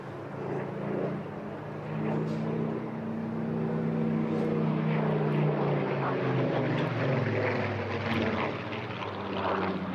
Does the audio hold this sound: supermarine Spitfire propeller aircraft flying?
yes